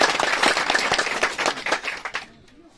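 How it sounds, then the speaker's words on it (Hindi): Applause from a crowd at a political gathering welcoming a new party member, loud and continuous at first, then thinning out and fading to near silence at the end. "जोरदार ताली से इनका स्वागत होना चाहिए"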